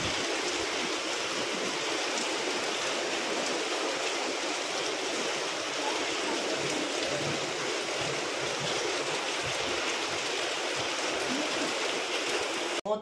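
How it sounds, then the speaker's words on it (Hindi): Steady heavy rain pours down outdoors at a home, a dense continuous wash of hiss that stays loud and even throughout with no voices. "मैं आप लोगों को सामने से दिखाती हूँ बारिश।"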